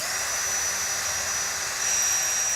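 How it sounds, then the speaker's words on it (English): A small power drill whines at a steady high pitch, loud and close, with a slight rise in intensity near the end. "We'll use that little drill over there."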